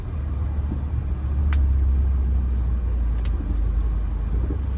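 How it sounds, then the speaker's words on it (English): Car cruising through the Peach Terrace housing project in Southwest Philadelphia, a steady low interior engine and road rumble with a couple of faint brief clicks or squeaks, no talking. "All right, we're driving through Peach Terrace."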